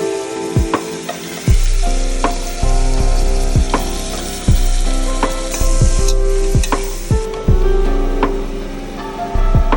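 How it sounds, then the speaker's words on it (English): Beef tongue sears in hot oil in a pot, a steady loud sizzle running throughout with repeated sharp knocks and scrapes of a utensil against the pot. "On a high heat, add oil to a pot. Place your meat and reduce the heat to medium."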